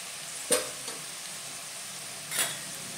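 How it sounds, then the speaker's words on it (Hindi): Onion frying in a pan for a chicken dish, a steady soft sizzle with two brief scraping stir strokes, close and alone. "आपला कांदा जो आहे थोडासा फ्राय झालेला आहे बघा"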